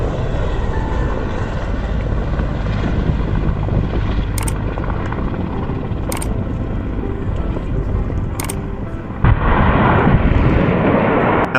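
Artillery fire at a joint Russian-Mongolian field exercise at a Mongolian training ground, heard as a steady loud rumble of guns and engines with three sharp distant reports spaced a couple of seconds apart, then a louder surge near the end.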